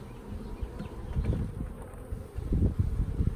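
Honey bees buzz softly and steadily during a beehive inspection, a low swarm drone swelling and fading close by, with faint handling noises.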